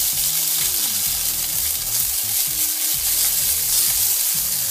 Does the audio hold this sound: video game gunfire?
no